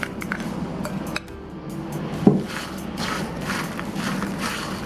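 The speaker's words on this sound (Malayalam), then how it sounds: "ഒരു വലിയ പാത്രത്തിൽ നമുക്കൊന്ന് മിക്സ് ചെയ്തെടുക്കാം." Dry shark fish pickle being mixed in a large bowl, with a few light clinks and soft scraping of utensil against the bowl, one sharper clink standing out midway, in an otherwise quiet kitchen.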